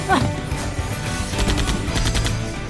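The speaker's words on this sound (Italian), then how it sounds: "gli hanno sparato veramente" Loud gunfire in Runaway 3: A Twist of Fate, a sharp shot followed by rapid bursts of firing over a dense soundtrack.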